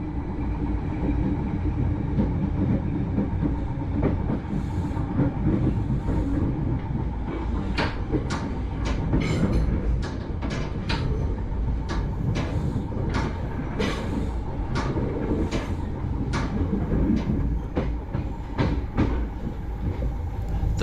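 A Class 313 electric train runs on rails into Lewes station, a steady loud rumble with repeated sharp clicks and clacks of wheels crossing rail joints and pointwork, evenly spaced throughout.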